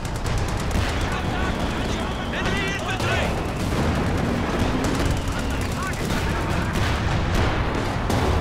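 Dense tank and infantry gunfire from a Company of Heroes 2 battle with a Sherman tank, continuous crackling shots and booms layered throughout under busy game noise.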